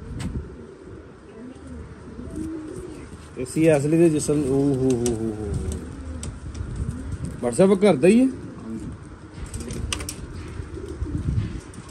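A pigeon coos in two rolling bursts close by, while someone speaks intermittently between and around the calls.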